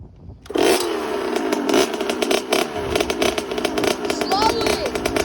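A Kawasaki KX85 dirt bike that had been flooded, its small two-stroke engine revving hard and close in uneven bursts, rising and falling with a rattly buzz while people's voices call out over it.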